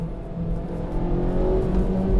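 Low, steady engine drone inside a new Honda Civic Type R hot hatch while driving, a constant resonant hum with a slight rise in intensity toward the end, no talking.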